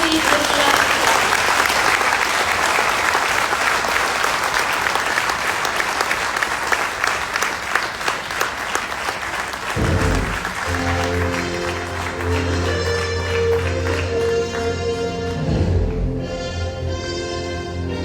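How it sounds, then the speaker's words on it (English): Audience applause at a start-up summit welcoming the chief guest, a long thunderous wash of clapping that runs loud and steady, with music entering partway through and continuing beneath the clapping. "let's welcome with a thunderous round of applause our chief guest of today, Smt.Nirmala Sitharaman"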